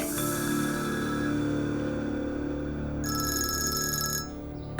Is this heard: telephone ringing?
yes